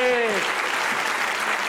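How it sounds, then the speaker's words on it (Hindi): Studio audience applause on a Pakistani comedy talk show, a dense steady patter of many hands after a brief voice at the start, sustained and fairly loud for the whole moment. "लाला के लिए जोर से तालियां यार"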